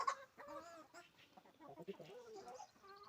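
Several hens cluck softly and intermittently nearby, their low murmuring calls overlapping in a quiet farmyard.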